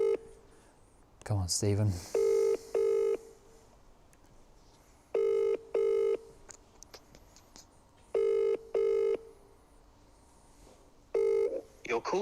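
A phone call to Stephen rings out: a few quick dialing beeps, then a paired ringback tone repeating in regular double pulses with pauses between, close and clear, while a man mutters briefly over it.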